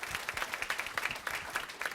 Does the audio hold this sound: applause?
yes